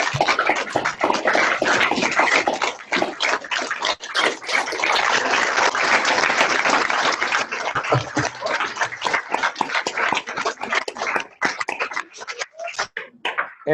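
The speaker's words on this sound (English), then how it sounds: "join me in giving a warm round of applause to Pro Football Hall of Famer, Mr. Randy White" Students give a warm round of applause for Pro Football Hall of Famer Randy White, loud dense clapping from a large crowd that runs steadily and thins out toward the end.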